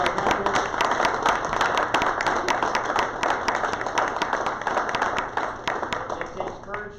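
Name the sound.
applause for a candidate at a Rotary meeting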